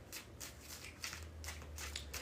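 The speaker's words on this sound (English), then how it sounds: "We're going to do 3 more shuffles." Tarot cards being shuffled in quick, soft riffling bursts, several short papery flicks in a row, faint and close, over a low background hum with no talking.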